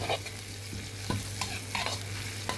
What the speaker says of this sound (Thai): ผัดพริกผัดกระเทียมให้หอมๆนะครับ